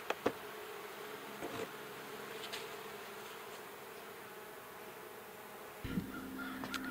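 Honey bees buzzing around beehives, a faint, steady outdoor drone that runs throughout, with a couple of sharp distant knocks early on and a slightly stronger hum near the end.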